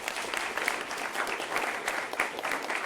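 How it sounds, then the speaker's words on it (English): An audience applauds at the close of a talk on green deal data, a short, continuous patter of many hands clapping. "Please join me in a round of applause for these awesome people."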